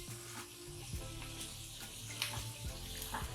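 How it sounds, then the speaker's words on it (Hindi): Ginger garlic paste frying in a karahi for beef balti gosht, a soft steady sizzle with occasional stirring scrapes from a utensil, close and fairly quiet, no voices. "इसको मैं थोड़ा सा भून इसलिए रही हूँ ताकि जो अदरक लहसुन का कच्चापन है ना वो थोड़ा सा कम हो जाए"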